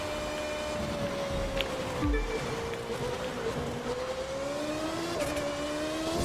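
Car accelerating under nitro boost in The Crew 2 during a Motor City live summit race, with a steady engine drone that rises gradually in pitch, continuous and fairly loud throughout.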